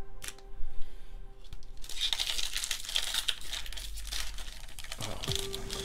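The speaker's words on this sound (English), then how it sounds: "doing terrible at opening up these packs" A Pokemon card booster pack wrapper is torn and crinkled open up close, a sharp rip followed by sustained crackling foil rustle, no talk.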